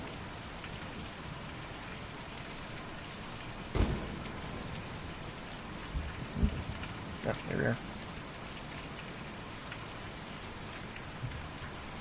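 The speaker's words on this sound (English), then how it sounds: "That is just pissing down rain, isn't it?" Heavy rain pours down in the video game Kentucky Route Zero, a steady dense hiss throughout, with a few brief thuds and a short spoken remark partway through.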